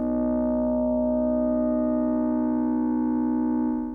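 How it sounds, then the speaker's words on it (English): Four synthesized sine waves with whole-number frequency ratios form a steady electronic chord that sounds for about four seconds, loud and unchanging apart from a faint dip near the start, then stops. "We can also have 4 sine waves with whole number frequency ratios"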